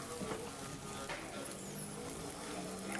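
Eggs with onion cook in a pan over a slow flame, giving a steady soft sizzle with light scraping as a spoon stirs them, fairly close and continuous.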